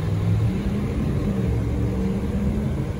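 A 2017 Ford F-250 Super Duty XL 4x4 turbo diesel engine idles steadily close by, a dense low rumble with a constant hum and no revving or talking.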